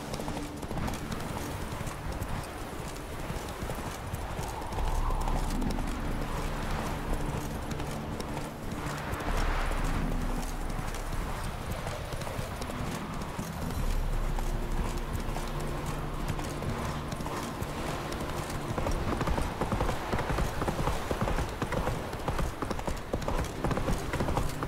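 Roach the horse gallops in The Witcher 3, hooves pounding in a fast, continuous rhythm over a rushing ambience, with a faint voice at moments.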